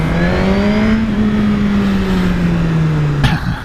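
A Suzuki GSX-R1000R motorcycle engine drones loud and close while riding, holding a steady tone that sags slightly as the revs ease off, then a brief mechanical clunk near the end.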